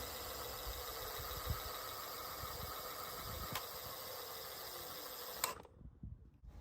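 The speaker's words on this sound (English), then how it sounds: "Here's what the hub motor sounds like when it's running." A Mihogo One Max e-bike's hub motor runs with a steady, continuous whine and hum that holds evenly for about five seconds, then cuts off abruptly into near silence.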